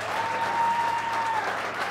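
A church congregation claps for the Lord, a brief, even burst of many hands clapping together in a hall, with a faint sustained tone running through it.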